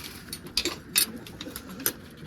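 Pigeons in a loft, including a newly brought pair, give a few soft coos and short rustling chirps, fairly close and irregular against low background noise.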